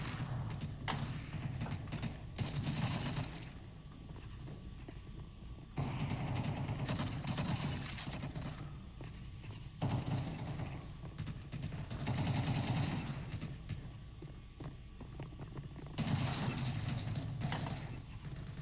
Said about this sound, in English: He was shooting the ground.